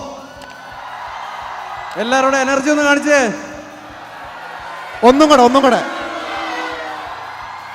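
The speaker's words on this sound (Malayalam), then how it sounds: "എല്ലാവരും ശക്തമായിട്ടൊന്ന് കൂവാവോ" A comedy show audience at Eid Malhar hoots loudly on request in two short, wavering crowd bursts, with a host speaking before and between them.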